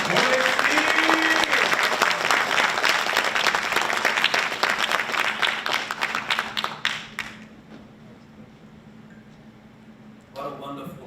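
A crowd applauds loudly with dense clapping that fades out after several seconds, leaving quiet room tone and a brief sound near the end.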